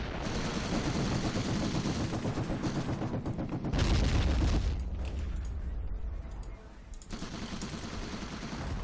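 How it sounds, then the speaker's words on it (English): Company of Heroes gameplay in which a mortar barrage strikes a half-track, with dense rattling gunfire and heavy booming impacts, loud and continuous, briefly thinning near the end before resuming. "That is a mortar barrage, by the way, on my half-track."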